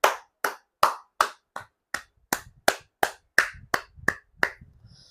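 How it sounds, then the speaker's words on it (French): A single person clapping hands in a Chadian setting, a dozen sharp, evenly spaced claps at a steady moderate pace, close and loud with no voices. "j'applaudis le peuple tchadien"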